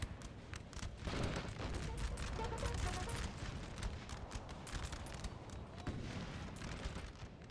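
Musket volleys from massed infantry in Napoleonic Total War 3, a dense continuous crackle of distant gunfire rolling on without a break, moderately loud.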